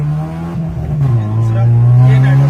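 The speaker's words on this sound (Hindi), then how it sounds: "ये चली नेट्रस। गाड़ी की आवाज कैसे एकदम से चेंज हो जाती है।" A loud car engine at a track night holds a deep droning note, then its pitch shifts and climbs as it revs harder on nitrous, with a voice briefly heard over it.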